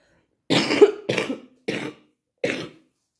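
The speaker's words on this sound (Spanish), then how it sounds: "Todavía la tos se me queda crónica" Four short, harsh chronic coughs in a row, the first two close together and the last after a brief pause, with no talking.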